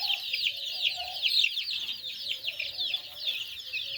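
Chickens at a poultry farm cluck and chirp in a busy, overlapping chorus, the high calls near and moderately loud and running without a break.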